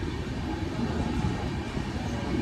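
A Jan Shatabdi express rolls along the railway in monsoon weather, giving a steady, faint rumbling drone of wheels and carriages with no speech.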